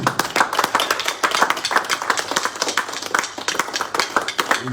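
A church congregation applauding together, dense steady clapping from many hands throughout, close and lively with no talking over it.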